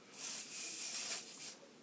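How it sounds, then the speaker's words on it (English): Hairspray hisses in three or four short close bursts as it is sprayed upward into curled hair, a soft airy spritz with brief gaps between puffs and no talking. "So I'm going to come from the bottom and spray up into the curl."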